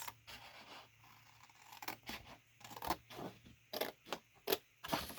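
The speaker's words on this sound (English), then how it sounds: "you can cut it with your scissors" Paper being cut with scissors, a series of crisp snipping and tearing strokes that quicken toward the end, close and fairly quiet against a soft background hum, with no talking.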